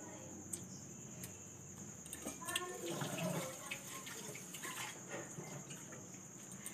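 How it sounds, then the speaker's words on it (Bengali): Water pours briefly into a pan of jaggery for melting, a soft splashing trickle rising then tapering, with quiet talk and kitchen clatter around it. "এতেই শুধু গুড়টা গালানোর জন্য জলটা আমি দিলাম"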